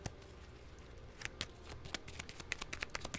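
Board game cards for Champions of Midgard are shuffled quietly close by, with a soft rustle broken by quick crisp riffling snaps that grow denser toward the end.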